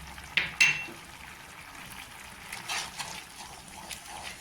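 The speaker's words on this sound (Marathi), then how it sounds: "आता इथे कोथिंबीर टाकायची छान अशी मिक्स करून घ्यायची" Coriander being stirred into a urad dal mixture in a pot, a couple of sharp clinks of a spoon against metal followed by soft, wet scraping and shuffling, fairly quiet with no talk.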